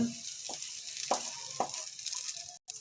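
Vermicelli sizzling in hot ghee, a steady high hiss with a few soft scraping stirs spaced through it, close and moderately loud, cutting out briefly near the end.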